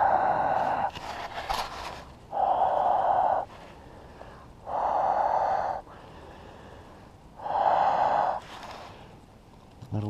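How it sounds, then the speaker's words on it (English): Three separate puffs of warm breath blown onto a found ring outdoors in Fairbanks before a blizzard, each a steady hollow exhale lasting about a second, close to the microphone with quiet gaps between. "Let me breathe on it here."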